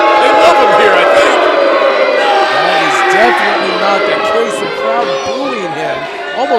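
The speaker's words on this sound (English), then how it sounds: "The crowd booing him." A wrestling crowd in a packed venue produces a loud, sustained mass of voices with booing and chatter, along with individual shouts rising above the din throughout.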